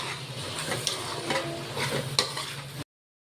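A spoon stirs spices, turmeric, salt and coriander-cumin powder into masala rice in a pan, with a steady soft sizzle and scraping strokes close by before cutting to silence.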